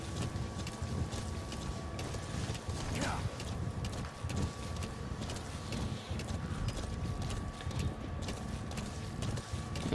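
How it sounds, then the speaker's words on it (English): Horse hooves clip-clopping at a gallop in Metal Gear Solid V, a steady rhythmic beat heard throughout, mixed with game sound and mechanical clicks at moderate loudness. "By riding on the side of the horse."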